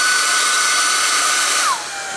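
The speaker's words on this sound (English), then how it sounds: "Hair dryer" A hair dryer blows steadily to dry paint on a painted snowman head, its whine holding a level pitch, then dropping lower as the speed setting changes near the end.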